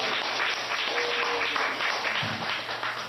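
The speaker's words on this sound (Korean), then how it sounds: "우리 격려의 박수 주문하겠습니다" A church congregation applauds to encourage a couple who have just become parents, a dense, steady wash of many hands clapping at moderate volume for several seconds, with no voices over it.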